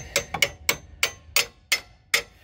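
Seven light metallic taps strike a front control arm bolt on a Jeep Grand Cherokee WJ, evenly spaced and close, ringing briefly with no talking.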